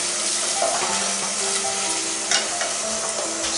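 Onion and tomato paste cooks with a little added water in a pan, giving a steady, close sizzle and bubbling with faint stirring scrapes throughout.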